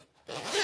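A zipper on an AER Travel Kit 2 toiletry bag is pulled open in one quick, close rasping run that starts after a brief quiet moment and grows steadily louder to the end, with no voices.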